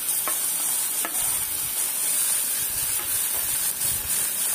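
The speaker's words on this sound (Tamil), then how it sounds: "நல்லா எல்லாம் சேர்த்து நல்லா வதக்கிக்கணும்." Onion, tomato and coriander sautéing in oil in a pan for Bombay chutney: a continuous soft sizzle with occasional scrapes of a spoon stirring, close by and steady.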